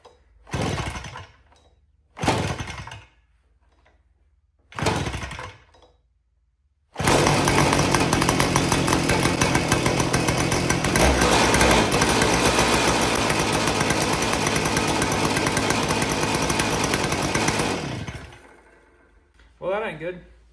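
A 40cc gas engine on a propeller-driven RC car gives a few short sputtering bursts, then roars into a loud, continuous buzzing run for about eleven seconds before dying down.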